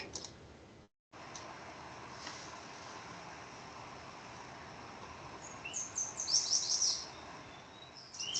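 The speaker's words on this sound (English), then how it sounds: "So this here is a yellow warbler." A yellow warbler sings in the open, a short bright series of sweet notes rising out of faint background hiss near the end, after a long quiet stretch; no voices.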